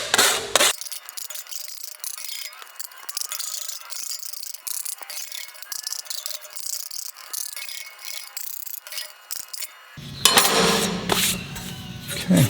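Edges of cut sheet metal are deburred by hand with a run of light scraping, rasping strokes, ending in a louder burst of metallic clatter.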